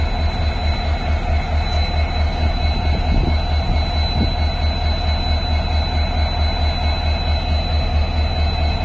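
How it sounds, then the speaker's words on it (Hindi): Danapur Bikaner Express with LHB coaches passing close by, a loud, steady rumble of wheels on rails with rhythmic clacking and a faint squeal. "ये Danapur Bikaner express special express"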